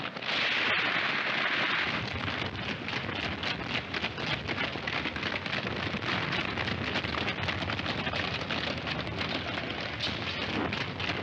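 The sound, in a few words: gunshots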